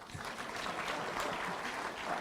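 Audience applause fills a university town hall meeting with a military chief, a steady dense wash of clapping that runs unbroken and moderately loud throughout.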